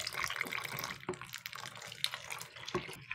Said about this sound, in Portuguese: Agora eu vou colocar logo 2 litros de água, ó, pessoal, aqui nesse frasco aqui